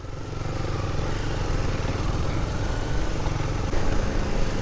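A motorcycle engine with its silencer removed runs in a loud, steady, rough drone, with a throbbing low pulse that continues throughout and swells slightly near the end; no one speaks.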